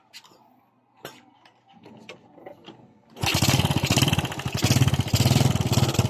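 A Yamaha Vega 115 motorcycle engine starts after an electrical repair. A few faint clicks and taps come first, then the engine catches and runs at a loud, steady, rattling idle.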